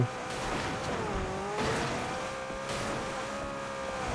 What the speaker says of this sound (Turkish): Ufak bir araba kazası.